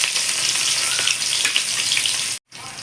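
Capsicum pieces drop into hot oil for a Bengali-style paneer dish, producing a loud, continuous crackling sizzle with a brief dropout near the end.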